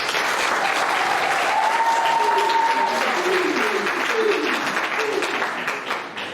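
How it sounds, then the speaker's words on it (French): A crowd at a civil wedding ceremony claps steadily and fairly loudly for several seconds, the dense applause fading slightly at the end while a voice speaks faintly underneath. "Applaudissez pour lui, s'il vous plaît."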